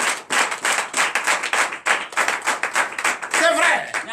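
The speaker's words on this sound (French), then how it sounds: "Donnez l'acclamation." A church congregation at a night deliverance and prophecy service claps rhythmically in steady beats and cheers, with a voice rising near the end.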